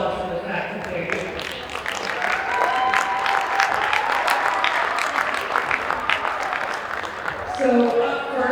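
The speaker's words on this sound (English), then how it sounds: "So let's give a round of applause for the fact that they're here." A gym crowd applauds at a high school girls basketball senior night, with steady, dense clapping and some cheering that holds for the whole stretch, loud and close around the listener.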